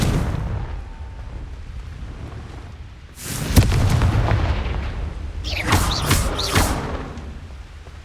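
In a Harry Potter video game, a Confringo spell sets off a booming blast over a low background rumble, and a crackling burst follows a couple of seconds later.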